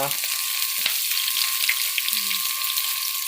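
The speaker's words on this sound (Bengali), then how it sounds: "এদিকে ফোড়ন দেওয়া হচ্ছে" Panch phoron spices temper in hot oil for a Bengali kochur loti and hilish fish dish. A bright, close sizzle and crackle runs steadily with a few stirring knocks and no talk.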